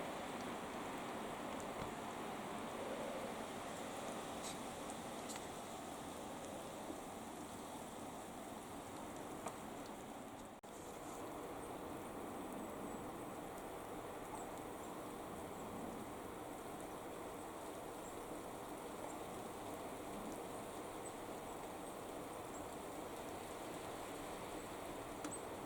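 Rain falling in Scotland around a camper van at Auchenhalrig, a soft, even, continuous hiss that stays faint and unbroken throughout.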